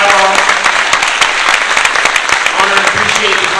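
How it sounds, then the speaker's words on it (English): Audience applause at a town hall gathering, a dense burst of clapping from many hands filling the room, loud and continuous throughout. "Please give a round of applause for everyone who's contributed to the conversation and dialogue."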